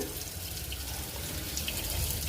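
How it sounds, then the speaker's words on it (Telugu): Steady rush of water pouring from a tap in an outdoor wash area, continuous and fairly close, with no voices. "ఇదిగోండి ఇక్కడ కూడా వాటర్ వస్తుంది"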